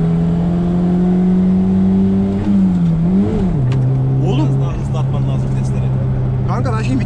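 Fiat Uno engine in a POV drive, dropping from fourth to third gear and revving, a steady low engine drone that rises and wavers under loud in-car talk.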